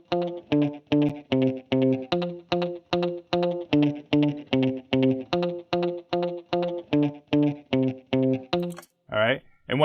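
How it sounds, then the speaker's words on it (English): A guitar plays a fast sixteenth-note phrase through a second delay, with repeating plucked notes in an even, driving pulse and echoes stacking up, ending with a brief pitch-bending flourish. "So what I did is I set up a second guitar delay"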